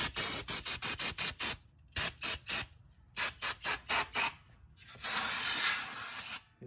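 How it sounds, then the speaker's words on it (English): Brake cleaner sprayed onto the brake rotors of a Jeep Chrysler during a brake job, coming as a rapid series of about a dozen short, loud hissing bursts, then one long continuous spray near the end, with no talking. "spray a lot of brake cleaner all around"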